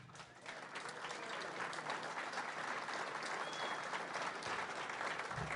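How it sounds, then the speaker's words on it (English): A convention audience at the Libertarian National Convention claps in sustained applause, a dense even roar of many hands holding steady for several seconds with no talk. "You're clapping"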